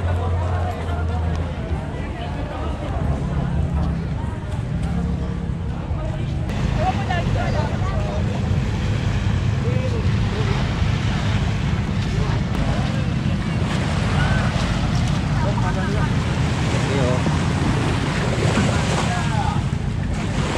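Sea waves at an uncrowded fishing port, a steady rolling wash of surf under wind noise, with people talking throughout.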